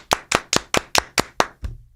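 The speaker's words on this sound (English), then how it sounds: "Everybody, clap your hands." Hands clap in a studio, seven crisp close claps at a steady even rhythm, followed by an eighth softer, duller one, with no talking over them.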